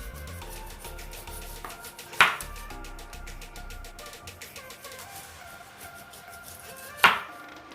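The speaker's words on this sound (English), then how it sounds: "So I'm going to start by peeling my pineapple" A knife works through a fresh pineapple as it is peeled, with two sharp chopping thuds standing out against a busy background of steady rhythmic clatter and room noise.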